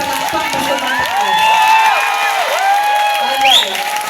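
A large audience at a city year-end assessment gathering with Mayor Lani Cayetano keeps up loud, steady cheering and clapping, with shouts and whoops rising above the crowd noise throughout.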